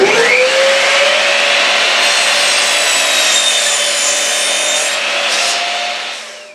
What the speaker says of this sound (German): Gesägt werden die Dielen mit einer Kapp- und Gehrungssäge